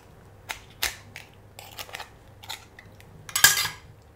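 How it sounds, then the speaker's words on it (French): Spoon scraping and clinking against a Norwegian scallop shell while freeing the meat at the muscle, a handful of brief sharp taps and scrapes, close and fairly quiet, with a louder cluster near the end. "À l'aide d'une cuillère, détachez la noix de Saint-Jacques au niveau de son muscle."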